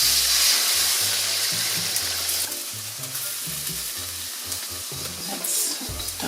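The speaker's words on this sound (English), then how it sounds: "It's time for us to add our eggs into the wok." Eggs fry loudly in hot oil in a wok, a bright close sizzle that bursts in at the start and settles into a steady crackle.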